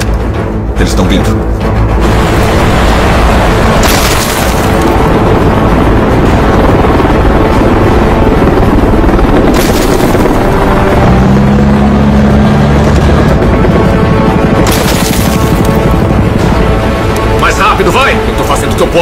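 Helicopters chasing people in a film scene, a loud, continuous rotor and engine roar filling the whole stretch, with voices speaking over it and a few sharp bursts of action noise.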